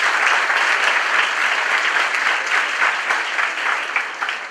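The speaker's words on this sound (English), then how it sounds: "Can we give a round of applause for that?" Sustained applause from a large audience at a formal gathering, dense steady clapping at even loudness throughout, tapering only slightly at the end.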